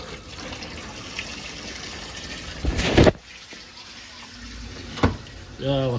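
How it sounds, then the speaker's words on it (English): Hot water runs steadily from a tap during a home boiler test, a continuous close splashing stream with two louder gushes midway and a brief voice near the end. "just run that hot water."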